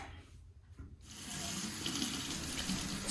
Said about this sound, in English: I'm going to rinse out my hair. Another tip, I prefer to rinse my hair in the kitchen sink.